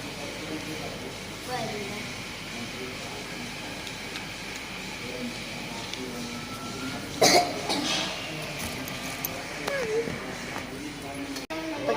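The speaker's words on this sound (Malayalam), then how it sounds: "ഇങ്ങനെ ചുമയാണ് പാവം എൻ്റെ മോൻ" A ten-year-old boy coughs briefly around the middle of the stretch, a short sharp burst rising above steady background noise and murmured talk.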